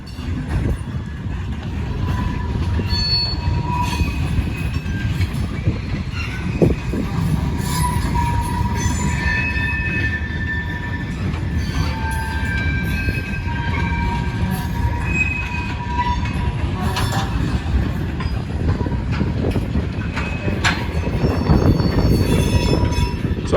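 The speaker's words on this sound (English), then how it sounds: "And here comes the third train." An RJ Corman freight train rolls over railroad diamonds outdoors, with a steady loud rumble of cars, wheel squeals and clattering wheel impacts sustained throughout and occasional wind noise.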